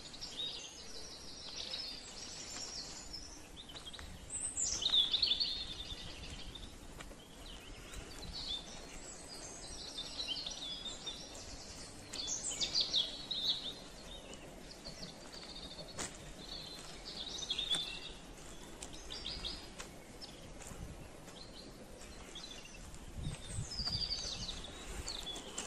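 Birds chirp and twitter in bursts throughout, fairly faint and distant, over a low, steady outdoor rumble near a stadium at dusk.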